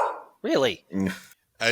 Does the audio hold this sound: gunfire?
no